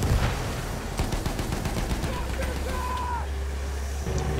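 In a video game battle, a tank gunner fires amid rapid bursts of gunfire and rumbling vehicle noise, with players talking over the clatter.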